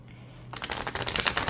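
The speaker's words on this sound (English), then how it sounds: "so that I can shuffle them, better" A new, stiff-cardstock Sufi Tarot deck being shuffled in small piles, with close, rapid, crisp riffling and flicking bursts that grow louder toward the end.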